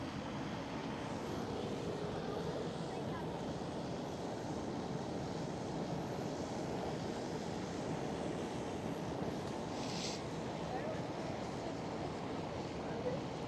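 Transavia Airbus A321neo airliner at Schiphol, heard as a faint, distant, continuous jet rumble that stays steady and unbroken throughout, with a soft hiss over it.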